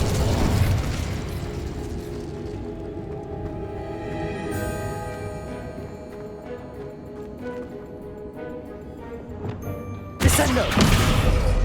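Incendio fire spell cast in the Hogwarts Legacy video game, heard as a dense whooshing, crackling burst with mechanical clatter under game music, ending in a sharp loud flare near the close.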